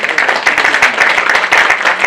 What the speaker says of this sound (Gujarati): એમને તાળીથી વધાવી લઈએ